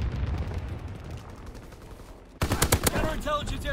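A Nambu gun firing in Call of Duty WW2, starting with a muffled rumble of distant battle and then breaking into a sharp, loud burst of rapid shots with a mechanical ring.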